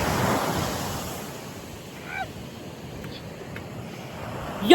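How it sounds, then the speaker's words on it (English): Waves wash onto a Mangalore beach in a broad, steady surf roar, loudest at the start and easing off, with wind buffeting the microphone and faint voices in the background. "Yo guys, we are at the beach."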